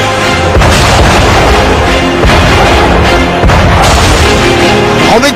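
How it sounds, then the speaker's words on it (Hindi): Howitzer artillery shells fire in heavy booming blasts, loud and close, with a dense rumbling roar filling the space between shots and no talk over it. "एक बार फिर देखिए कैसे दुश्मन पर हॉविट्जर गोले दागती है।"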